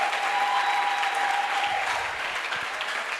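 A church congregation applauds to acclaim the Lord, sustained loud clapping filling the room with crowd cheering, a high sustained tone running under it for the first two seconds.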